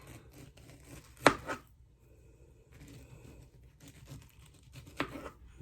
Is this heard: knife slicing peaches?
yes